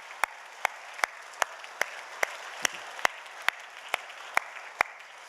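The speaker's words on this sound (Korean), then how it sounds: "여러분 아이들 한번 박수로 한번 크게 격려해 주세요." A church congregation at a dawn retreat claps for the children in slow, rhythmic unison, sharp evenly spaced claps about twice a second, fairly faint and roomy.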